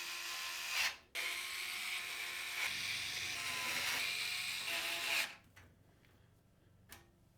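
A standoff removal tool turning a standoff on a Lian Li O11 Dynamic Mini V2 PC case, with a steady whirring, grinding mechanical sound for several seconds, broken by brief gaps and ending with faint clicks.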